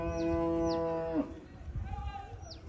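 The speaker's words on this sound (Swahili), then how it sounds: "Ng'ombe wakubwa, ng'ombe wanavutia." Large cattle on a well-kept pasture farm in Tanzania give one long, loud, nearby moo that falls off into quieter rustling and faint background sounds.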